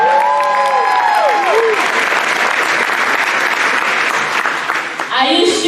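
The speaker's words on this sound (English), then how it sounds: "please don't forget to support them by clapping and cheering them on" Audience at an African Children's Choir performance bursting into sustained loud applause and cheering, a dense wash of clapping with a voice speaking briefly at the start.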